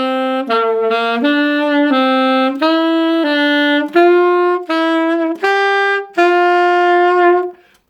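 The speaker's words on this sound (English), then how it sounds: "What you're hearing are my tenor sax big fat fingers hitting the palm keys and breaking the notes" A saxophone runs through ascending scale notes, each sustained tone stepping up in pitch with brief gaps, some notes breaking as fingers bump the palm keys; bright, close and played alone.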